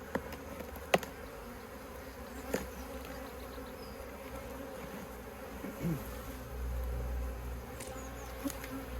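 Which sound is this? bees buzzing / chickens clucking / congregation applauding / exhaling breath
bees buzzing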